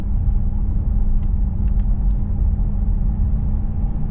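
A 2022 rear-wheel-drive Porsche Taycan electric car braking with regeneration on a downhill road, heard from inside as a loud steady low rumble and road whir with faint high whine, no talk.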